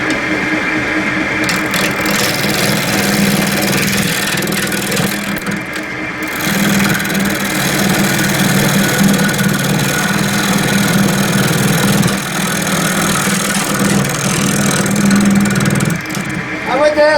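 A wood lathe spins a Ficus vase blank while its inside is hollowed out, producing a loud, steady motor hum with a scraping rasp on top. A voice speaks over the machine at times.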